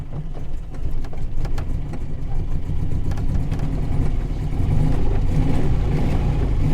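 A 1947 Humber 10 car engine runs after a push start, a steady mid-range mechanical drone that swells slightly toward the end, continuous and fairly loud with no talking.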